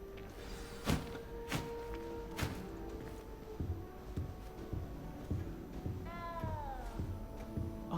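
In the video game Hogwarts Legacy, a frightened little cat gives a short, rising meow late in the scene, heard over dull thumping footsteps and a low ambient hum.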